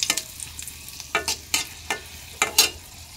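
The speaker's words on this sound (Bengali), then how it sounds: "মরিচ ভাজতেছি" Chilies fry in a pan while being stirred, with a faint sizzle beneath and several sharp, scraping stir strokes coming in irregular bursts up close, and no talk.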